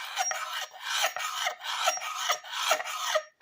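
Rhythmic rasping scrapes of a reground antique knife blade drawn repeatedly across a surface, about eight close strokes in a steady back-and-forth pattern, bright and dry with no voices.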